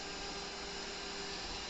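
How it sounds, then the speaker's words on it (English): Shark vacuum cleaner running nearby, a steady, even broadband whir with a faint motor hum, continuous and unchanging, with no talk over it. "who let the vacuum cleaner in here? The Shark vacuum cleaner."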